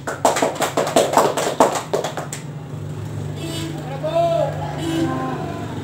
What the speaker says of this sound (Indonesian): Silahkan beri aplaus kepada temannya